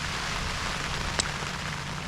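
Steady rain falling and pattering on surfaces outdoors, a dense even hiss throughout with one brief sharper tap, no voices.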